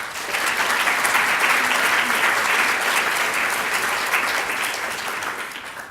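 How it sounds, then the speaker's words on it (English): Warm round of applause from an audience at a BrainTalks science lecture, dense continuous clapping that swells quickly, holds steady for several seconds and then tapers off. "join me in giving her a warm round of applause"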